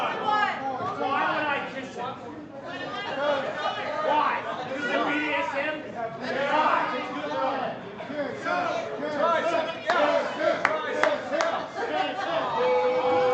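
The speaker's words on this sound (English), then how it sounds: "Well, you hear the crowd here at Swan Dive." Crowd noise at an independent wrestling event in a venue called Swan Dive, a steady babble of many voices with shouts and cheers rising and falling throughout.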